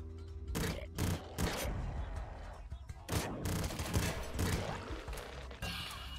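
Rapid bursts of Trigon gun fire and other weapon blasts from the Nuclear Throne video game crackle in quick clusters, with occasional talk over the action.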